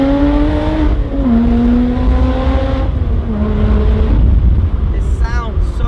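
An Alfa Romeo 4C Spider's engine accelerating, a loud, close, rising drone that drops briefly at a gear change and climbs again, with a voice speaking briefly near the end.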